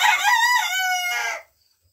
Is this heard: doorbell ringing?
no